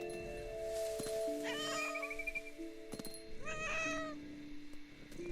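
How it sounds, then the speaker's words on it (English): Cat meowing in a video game, two drawn-out meows separated by a pause, fairly clear over a steady background of game music tones. "I like how it's meowing."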